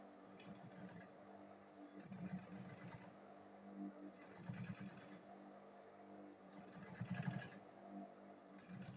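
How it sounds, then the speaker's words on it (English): A sewing machine stitches leather for a school bag, its quiet motor whirring in uneven bursts that swell and ease, faint and close with a steady low hum between runs. "So let me go ahead and sew here."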